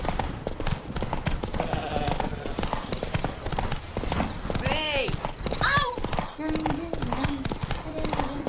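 Roach the horse trots in the video game The Witcher 3, a steady close clip-clop of hooves running throughout beneath layered game sounds, with voices speaking and calling over it.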